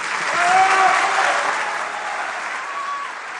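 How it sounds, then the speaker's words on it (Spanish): Dense audience applause fills an economic forum hall as the Argentine president is welcomed, swelling early and holding steady, with a few faint voices or whistles riding over the clapping. "les pido por favor que lo reciban con un aplauso"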